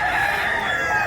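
A rooster crows, close and fairly loud, in one short sustained call with no other sound around it.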